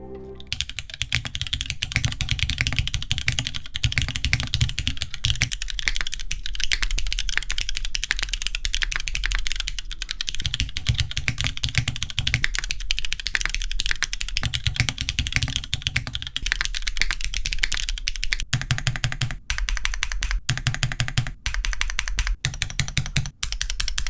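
Rapid, steady clacking of keys on a TB-65F mechanical keyboard, dense and continuous, with a few spaced single key strikes near the end.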